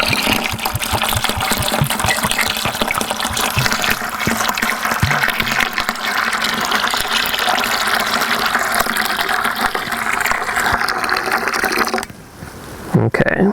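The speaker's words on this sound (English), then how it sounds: "and then I'll add a little cold water as well." Cold water pours into a bucket over a deer hide being brain tanned, a loud, close and steady rushing fill with gurgling that continues for about twelve seconds before cutting off, followed by a brief knock.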